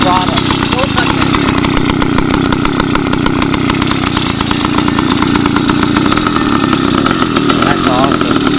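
A motorized bicycle engine runs with no exhaust fitted, giving a loud, raw, rapid buzzing putter that holds steady and close throughout, with voices talking over it.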